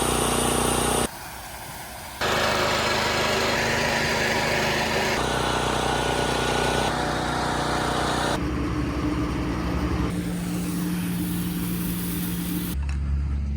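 A lawn mower runs steadily while mowing cricket wickets to 7mm, a continuous close engine drone whose tone shifts in sections, with a brief lower dip near the start and an abrupt cut at the end.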